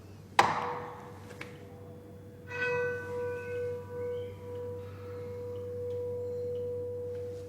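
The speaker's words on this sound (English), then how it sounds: "The lowest is where the whole bell is resonating in and out" A church bell is struck once, sharply, then its low, steady hum note rings on, slowly pulsing and fading over a quiet background.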